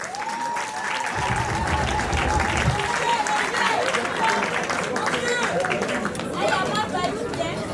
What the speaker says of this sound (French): Lui, c'est Bayoupi sur vos applaudissements, s'il vous plaît.